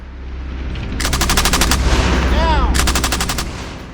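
An M2 heavy machine gun fires two loud, rapid bursts of shots with a short gap between them. A low rumbling backdrop runs underneath.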